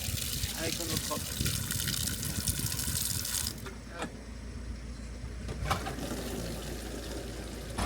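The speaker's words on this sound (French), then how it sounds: "Donc tu laisses bien couler et après tu remplis ton bidon avec ton eau propre." Water gushes steadily from a tap into a container at a campsite in Greece, close and continuous, with the filling tone shifting partway through as a few knocks sound over it.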